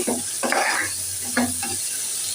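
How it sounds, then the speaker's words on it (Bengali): Oil sizzles steadily in a pan while onions are stirred and fried, with two bursts of scraping and hissing close by, no talking. "এবার পেঁয়াজটা ভেজে নিচ্ছি"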